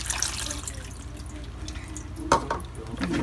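Water is poured into an Instant Pot over sliced potatoes in the insert basket, a quiet trickling splash with a brief louder gush near the end, heard close in a home kitchen.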